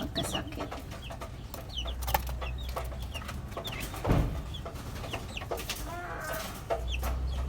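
Freshly hatched chickens from a DIY incubator cluck and cheep around close by, with short repeated calls scattered over a low steady hum of machinery and one louder bump midway.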